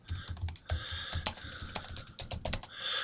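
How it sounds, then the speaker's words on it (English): Computer keyboard typing, a rapid, close run of keystrokes with a few louder taps, steady and fluid with no pauses and no voices. "This allows me to type in some nice text right to the side."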